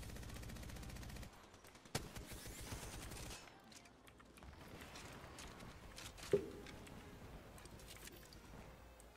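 Gunfire in a video game plays at low volume: scattered shots and short bursts with a few sharper cracks over a muffled, busy background.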